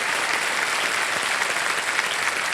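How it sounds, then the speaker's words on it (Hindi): Studio audience on the Hindi game show KBC season 15 breaking into steady, dense applause, loud and continuous throughout without any talk. "जोरदार तालियां बज जाए मधुरिमा जी के लिए।"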